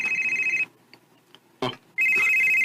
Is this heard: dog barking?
no